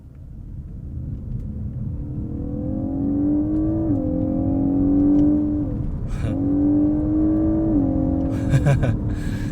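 A GWM Ora 07 electric car plays its artificial acceleration sound, a synthetic engine-like tone that rises in pitch through two long sweeps over a low road rumble, with brief bursts of noise in between.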